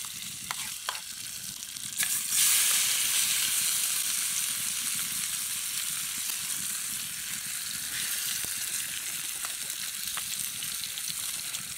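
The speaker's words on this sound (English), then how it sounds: "that bacon's cooking" Bacon frying in a pan over a coal-heated fire, a steady loud hiss and crackle that swells early on and then holds constant, with a few faint pops and no talking.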